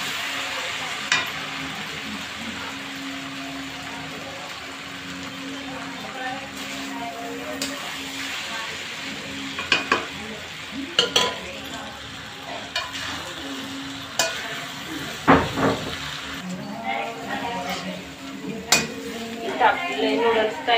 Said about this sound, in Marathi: आता याच्यामध्ये नूडल्स टाकून घेतलेले आहे आपण. मिक्स करून घ्यायचं.